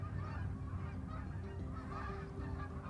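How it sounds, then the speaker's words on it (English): A flock of geese flying past and honking, their calls overlapping in a steady noisy chorus at moderate distance for the whole stretch, with no talk over them. "sounds like I have ducks or geese going by"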